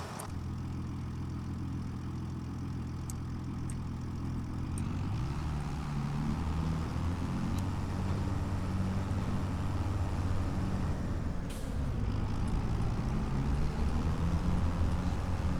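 Tractor engine in the Farming Simulator 25 video game, a steady low idling drone that runs throughout, growing slightly fuller partway in, with no talking over it.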